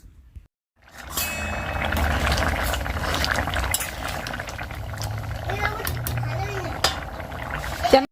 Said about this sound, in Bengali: চলো এবার আলুটার মধ্যে লবণ আর হলুদ দিয়ে ভালো করে নেড়েচেড়ে একটু ঢেকে দিই